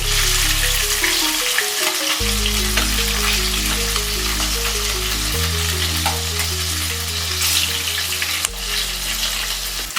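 Fish frying in hot oil for a Bengali spicy fish curry, a steady, loud, dense sizzle that runs throughout with no talking.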